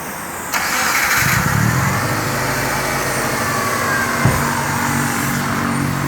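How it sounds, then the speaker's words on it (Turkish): A car engine cranks briefly and fires up, then settles into a steady, close idle during winter heater maintenance. "Arabayı bir çalıştırıp tamamlayalım."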